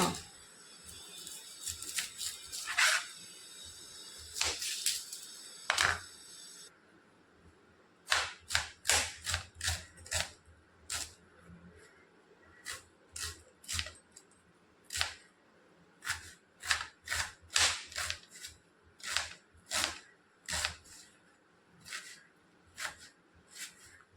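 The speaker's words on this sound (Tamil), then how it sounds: "வெங்காயம் எடுத்துகிட்டு வந்துட்டேன் வெட்டுவோமா" A kitchen knife chopping onions while preparing a black chickpea gravy. Close, crisp chops ring out, sparse and irregular at first, then a steady run of quick, evenly spaced strikes.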